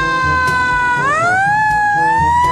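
Toy fire engine ladder truck siren, a loud electronic wail that holds one pitch, then jumps and swoops upward and keeps sounding steadily with faint clicks.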